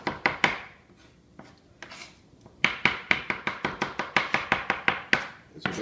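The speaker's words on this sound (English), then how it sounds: "I'll just chop it up till it's small enough" A knife chops spinach salad ingredients on a board in quick crisp strokes, a few scattered cuts first and then a fast steady run of knocks, close and clear.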